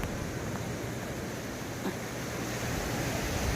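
Sea waves roll onto a beach in winter, a continuous wash of surf and wind noise that stays steady and fairly loud without distinct breaks.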